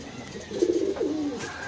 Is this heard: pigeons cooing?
yes